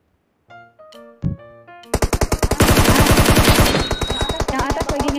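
Automatic gunfire in PUBG Mobile starts after a few scattered tones and thumps, then a loud rapid burst of evenly spaced shots rattles on for several seconds, close and dominant.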